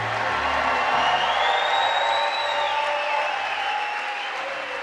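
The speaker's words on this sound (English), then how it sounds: "one more round of applause for the class of 2024" A commencement crowd at a medical school graduation gives the class of 2024 a loud, sustained round of applause, mixed with cheers and whoops rising above the clapping in a large hall.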